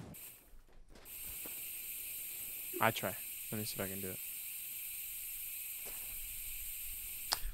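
Spray paint hisses steadily onto a car hood in The Long Drive driving game, a continuous airy spray running under casual talk.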